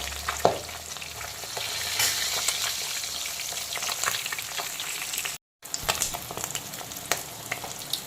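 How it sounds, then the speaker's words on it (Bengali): Pieces of bhetki fish fry in hot oil with a continuous crackling sizzle, sharp pops scattered through it and one brief dropout near the end, with no talking. "এখন মাছের উল্টো দিকটাকেও একইভাবে মিডিয়াম ফ্রাই করে নেব।"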